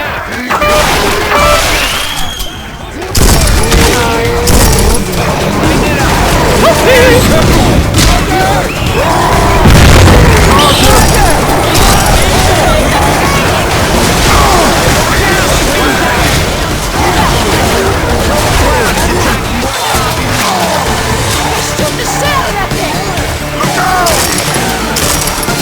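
Dense, continuous gunfire fills the scene as survivors shoot zombies in a modded Left 4 Dead 2 campaign on The Parish, with loud bursts and booms layered over voices talking throughout.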